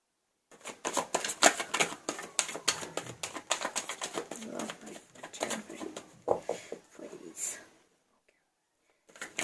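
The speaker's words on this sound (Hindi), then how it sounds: "चलिए अब मैं कार्ड लेना शुरू कर रही हूँ आप लोगों के लिए।" Tarot cards being drawn and handled during a reading, with soft papery slides, taps and flicks in an irregular close-up patter while someone speaks quietly over them.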